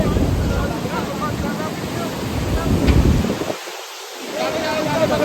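Cold wind blows hard across the microphone at a bazaar near Manikaran Sahib at night, a loud rushing roar that drops briefly before surging back, with a voice talking under it.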